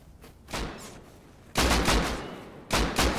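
Loud, close gunfire from the video game Rust comes in three separate bursts of rapid shots, each one trailing off into an echo.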